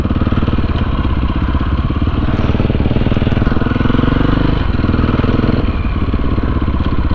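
A dirt bike engine, one of a 250CR, 400 TTR or 530 EXC-R, runs loud and close with continuous rough mechanical rumble and slight rises in revs as it is throttled for a wheelie.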